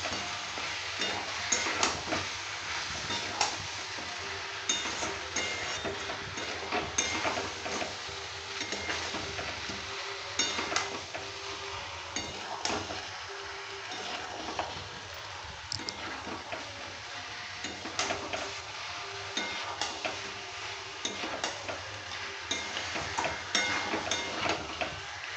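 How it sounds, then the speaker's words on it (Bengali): Fried papaya pieces being stir-fried with meat and spices in a pan, a dense continuous sizzle broken by repeated scraping and stirring strokes that run steadily close up, with no voices. "এরপর আমি পেঁপেগুলো দিয়ে দেবো, ভেজে রাখা পেঁপেটা ওটা ওর সাথে দিয়ে একটু কষিয়ে নেব।"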